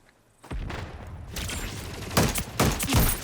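Gunfire in the video game Splitgate 2, a dense fusillade of repeated shots starting after a quiet moment, with louder bursts near the end.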